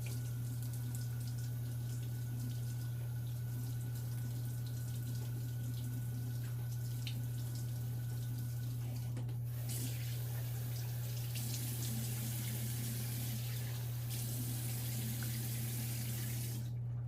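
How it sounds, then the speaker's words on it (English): Warm, then cold, tap water runs in a steady stream while rinsing a freshly shaved head, turning brighter and splashier partway through, over a constant low hum. "I'm going to go ahead and rinse off my head, warm water and then cold."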